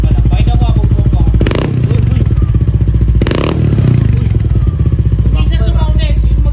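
An NMAX or PCX scooter engine idles nearby, a loud, steady throbbing putter that holds an even rhythm throughout, with brief voices and knocks breaking in over it.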